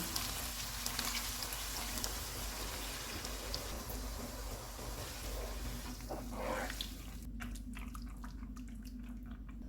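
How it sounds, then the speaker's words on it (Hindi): Steady rush of water pouring into a cooking pot of fried chana dal and keema, broad and continuous, with some clinking and sloshing near the end as the flow stops. "दो कप पानी डालेंगे"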